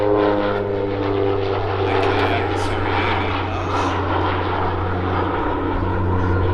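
A steady, loud propeller drone from an OV-10 Bronco twin-turboprop making a steep approach to land at an air festival, with strong constant tones and the engine roar sustained throughout.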